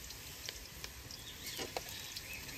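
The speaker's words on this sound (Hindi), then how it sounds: "पियाजटा एति भजा होता है" Onion frying in a pan, a soft steady sizzle with a few sharper crackles and pops, fairly close and low in level, with no voices.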